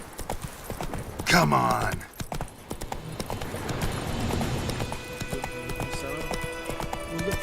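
Horse hooves clip-clop at a steady trot to gallop in The Witcher 3, with a short whinny near the start and someone speaking briefly over the hoofbeats.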